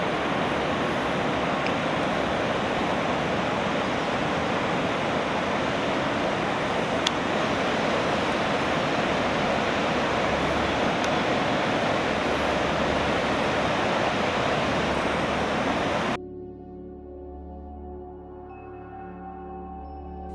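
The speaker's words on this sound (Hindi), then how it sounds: "तीर्थन नदी दिखती रहेगी और उसका शोर भी सुनाई देता रहेगा" The Tirthan river in the Great Himalayan National Park rushes loudly and steadily beside a trekking trail, a broad, unbroken roar of whitewater that cuts off abruptly near the end, leaving quiet.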